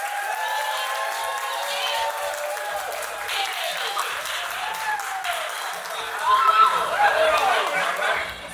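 A studio audience claps steadily to welcome guest Dulé Hill, a sustained wash of applause that swells toward the end, with some cheering and chatter mixed in.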